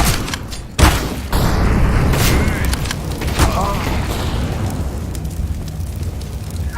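A grenade blast in a squad shooter game, a sharp loud boom followed by rumbling debris and continuing battle noise, with players talking over it.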